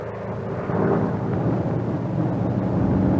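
A Grumman F6F Hellcat fighter flies overhead with a deep, steady, rumbling engine drone that swells slightly and then holds, loud and continuous throughout.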